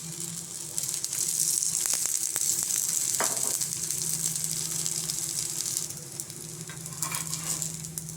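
Eggplant slices fry in a small amount of hot oil, giving a steady, close sizzle and crackle throughout, with a brief clatter partway in and a slight dip in intensity near the end.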